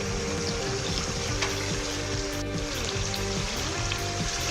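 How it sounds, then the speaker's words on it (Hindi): Mutton korma for biryani sizzling and frying in oil in a pot, a steady dense crackle filling the clip close up with no talk. "मैंने इसको ऑयल में पकाया है"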